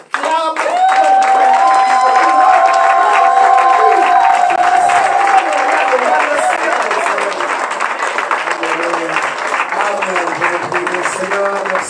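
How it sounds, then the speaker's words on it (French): A church congregation breaks into loud, sustained applause and cheering at a Sunday worship service, a dense wash of clapping and raised voices with a held tone ringing above it early on, continuing steadily for about twelve seconds. "bien aimé, j'aimerais que tu acclames."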